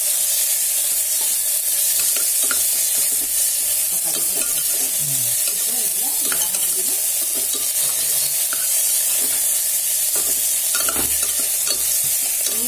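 Tomatoes sizzle in hot oil in a pan for avarakkai pulao while a spoon stirs and scrapes them in repeated strokes, loud and close, with no speech.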